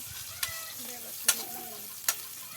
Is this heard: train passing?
no